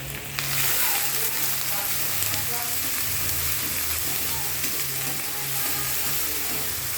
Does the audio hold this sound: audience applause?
no